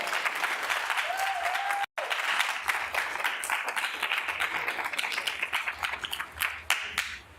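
Audience applauding at a planning commission meeting, a room of people clapping steadily, with a brief cut partway through and the clapping thinning toward the end.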